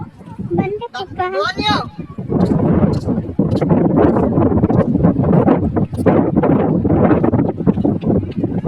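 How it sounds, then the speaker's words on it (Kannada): Strong wind blows at the KRS backwaters, roaring loudly and continuously across the microphone after a brief voice at the start. "ಗಾಳಿ ಬರ್ತಾ ಜಾಸ್ತಿ."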